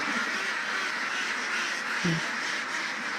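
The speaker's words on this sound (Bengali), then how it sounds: "এই যে আমাদের হাঁসগুলোকে এখন কিন্তু ছেড়ে দেওয়া হচ্ছে" One short quack from ducks being let out on a duck farm cuts briefly through a steady background hiss, fairly faint.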